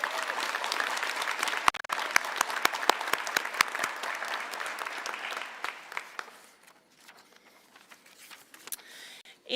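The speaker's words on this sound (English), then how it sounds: "Please, let's give them one more big round of applause." A crowd at an adult and family education commencement ceremony applauds loudly, with the clapping thinning into scattered claps and fading to near silence near the end.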